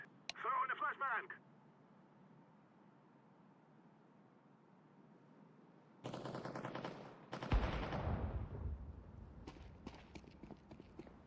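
A flashbang grenade is thrown and goes off in Counter-Strike 2, giving a sudden broadband burst followed by a second loud blast and ringing noise, set among other in-game gunfire and clatter.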